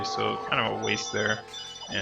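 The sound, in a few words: phone ringing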